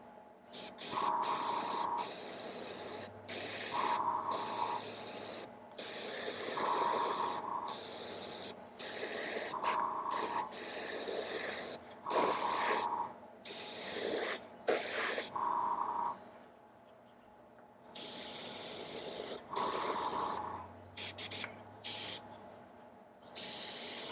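Paint is sprayed onto a Timber Wolf miniature in roughly nine short hissing bursts of a few seconds each, separated by brief pauses, close and fairly loud with no talking.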